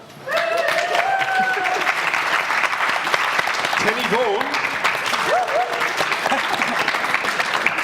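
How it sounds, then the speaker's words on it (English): A big round of applause from the audience at a music alumni panel talk, loud and sustained throughout, with a host's voice speaking names over the clapping. "could you give a big round of applause for our guests"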